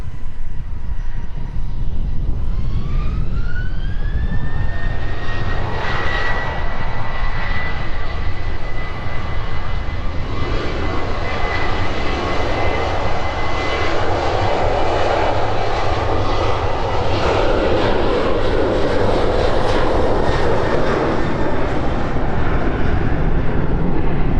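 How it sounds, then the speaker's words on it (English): Ryanair airliner taxiing at East Midlands Airport, a loud steady jet engine roar with a rising whine that settles into a sustained drone, heard continuously from nearby. "Ryanair as well starting to commence its taxi down towards us"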